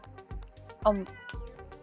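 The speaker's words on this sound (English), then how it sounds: "my cat Oreo is having the zoomies right now" A house cat meows once, clear and close, in a quiet indoor room while a voice murmurs briefly nearby.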